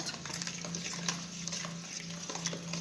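A spoon stirs milk together with croissant dough ingredients in a bowl, making a steady, soft swishing scrape close by with light clinks and no talking.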